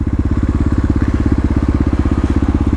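A Kawasaki KLX351 dual-sport motorcycle being ridden during engine break-in, its engine holding a steady, fast, evenly pulsing thrum close by, loud and continuous with no voices over it.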